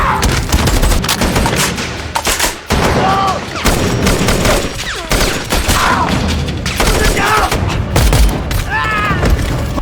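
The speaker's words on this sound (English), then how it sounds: "It is a non-stop barrage of noise and explosions as they fight to hold their ground against overwhelming odds." Gunfire and explosions from a special forces war movie, a continuous barrage of rapid shots and heavy booms with brief dips, loud and dense throughout, with voices shouting through the chaos.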